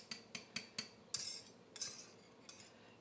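A spoon clinks and scrapes against a pan while stirring hot, foaming pie filling for an Amish Quakertown pie: a run of sharp, close metallic taps, some spaced evenly and others uneven, with a brighter clatter midway.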